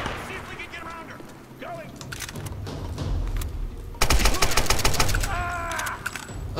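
Rapid gunfire from a weapon in the Tomb Raider video game, a dense burst of repeated shots starting partway through and running loud to the end, with a speaking voice mixed in.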